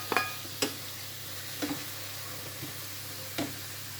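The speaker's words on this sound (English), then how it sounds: "Now I'm adding in my fresh tomatoes." Fresh tomatoes cooking in a hot pan with masala and salt: a steady soft sizzle broken by a few sharp taps and clicks of stirring.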